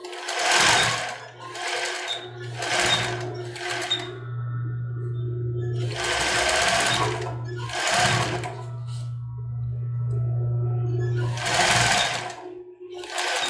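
A sewing machine stitches a lace cropped top in several bursts of fast, close stitching separated by pauses, with a steady low motor hum underneath and brief talking between runs.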